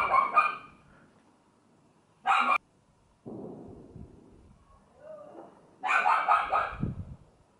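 A neighbor's dog barks in short bursts outdoors on New Year's, a few sharp barks spaced out between quieter stretches, fairly close.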